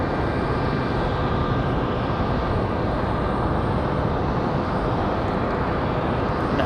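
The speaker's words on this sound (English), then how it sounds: "This is Republic Airways 9936 coming in from St. Louis" Republic Airways jet arriving from St. Louis at Raleigh-Durham airport, a dense, steady engine roar that stays loud and unbroken for the whole stretch, with no talking.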